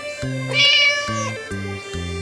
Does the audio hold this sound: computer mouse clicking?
no